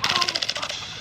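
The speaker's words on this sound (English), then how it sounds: "I popped Mario" A Glock 23 BB gun fires a rapid burst of sharp pops, close and fairly loud, the shots quickly trailing off within about a second.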